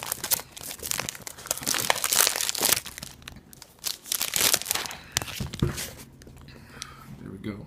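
Plastic shrink wrap crinkling and tearing on a Silent Hill Soundbox package, irregular close crackling bursts throughout with a voice talking alongside.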